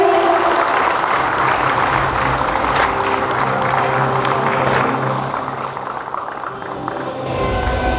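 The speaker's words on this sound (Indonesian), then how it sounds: "Hadirin boleh tepuk tangan yang paling meriah." Sustained, loud applause fills a hall at the KADIN national congress in Banten, a dense crowd clapping steadily before easing off slightly near the end.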